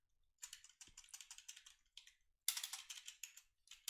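Python code being typed on a computer keyboard: quick bursts of close, crisp keystrokes, with a brief pause and then a denser, louder run of typing.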